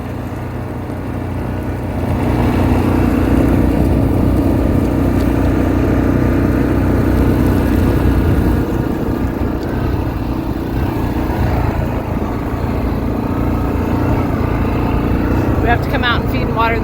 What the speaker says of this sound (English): we are taking the four-wheeler out